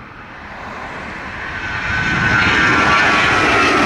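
An American Airlines jet takes off from the runway at Sangster airport in Montego Bay, Jamaica, its engine roar building steadily into a loud, broad rumble with a rising whine, heard alone.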